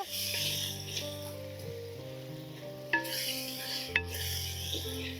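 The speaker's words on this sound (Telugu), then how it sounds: "ఇప్పుడు ఇది కూడా ఒక నిమిషం పాటు వేయించుకోవాలి పచ్చివాసన పోయేదాకా" Ground coriander, cumin and dried chilli masala roasting in a pan, a soft steady sizzle with occasional stirring scrapes and two sharp clinks, close and unaccompanied by speech.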